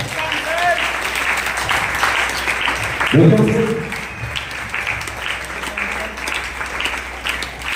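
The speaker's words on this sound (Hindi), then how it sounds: "और तालियां जोरदार बजनी चाहिए" An audience claps for people welcomed onto a stage at a program event, a steady wash of applause throughout with a brief tonal burst, likely a voice, partway through.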